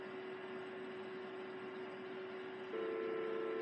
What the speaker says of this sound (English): Panasonic dial tone